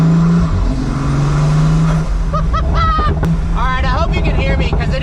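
Inside the cabin of a Pagani Huayra Roadster BC, the engine drones loud and steady, with rising whistles and chirps over the constant roar.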